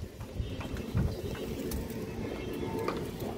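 Black-necked female pigeons cooing close by, a steady low throaty murmur with a slightly louder burst near the start, continuous and without talk.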